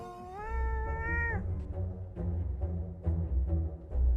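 A cat meows loudly in a long drawn-out cry, followed by several shorter, quieter meows and soft vocal sounds in an irregular rhythm, close up and with no one speaking.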